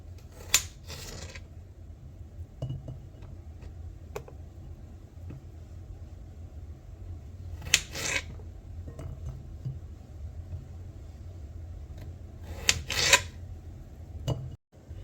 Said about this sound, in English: I'm going to continue until all of these potatoes are cut into quarters.